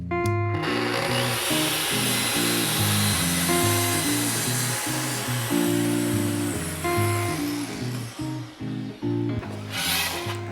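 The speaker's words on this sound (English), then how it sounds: "I'm only going to cut down about 1/4 of an inch just to cut through that panel" A power saw cuts a shallow quarter-inch groove through a wainscoting panel, giving a loud, close, sustained whine whose pitch shifts as the blade bites, then winds down near the end.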